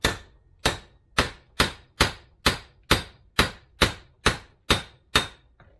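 Hammer striking a chisel on a Land Rover Series IIa front suspension part, about a dozen sharp, evenly spaced metallic taps, close and clear with short ringing decays and no talk.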